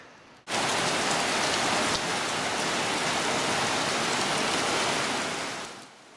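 Rain falls steadily in muddy countryside, making a loud, even hiss that starts abruptly and fades away near the end.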